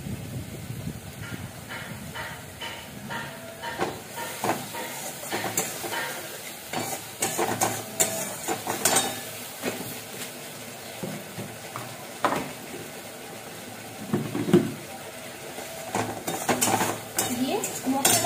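Spice paste with turmeric and salt sizzles in a pan as a utensil scrapes and stirs it in uneven bursts, clinking against the metal now and then, close and moderately loud, with a steady low frying hiss beneath.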